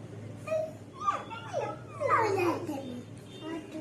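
A young child imitates a cat, making a few short, rising and falling meow-like cries that sound close and fairly soft.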